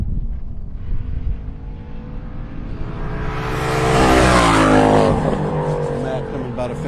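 A race car on the road course at Carolina Motorsports Park comes by on its third lap, engine rising loud and close as it passes, then fading away, with a voice talking over the roar.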